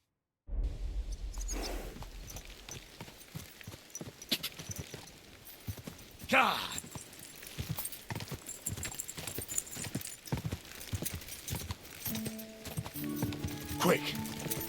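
Horse hooves clip-clopping at a steady trotting rhythm in the video game Kingdom Come: Deliverance II, fairly close and continuous with a brief whinny-like cry partway through, no talking.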